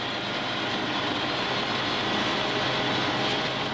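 A continuous loud helicopter roar, steady and broadband, flying close overhead during a rally in Kenya, with no speech.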